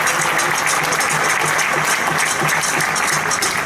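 Audience at a Spanish national folk festival in Torrent applauding steadily and loudly throughout, a dense unbroken wash of clapping with no voices.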